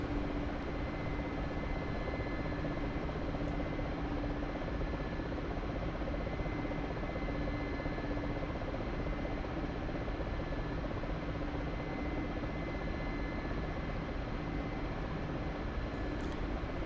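A Mi-24 Hind helicopter flies over Syria's Latakia region in the DCS flight simulator, its steady rotor and turbine drone loud and continuous throughout, with no speech.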